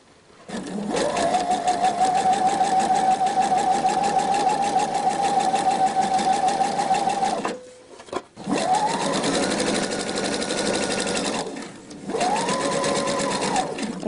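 A sewing machine stitches elastic onto T-shirt fabric in long steady runs, a close, continuous mechanical whir that pauses briefly around the middle and then resumes in two shorter bursts.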